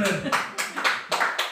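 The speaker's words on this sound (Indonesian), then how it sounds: "Tepuk tangan sekali lagi buat Bowo." Audience applause for a man named Bowo: a loud burst of many hands clapping in uneven waves, with voices mixed in among the claps.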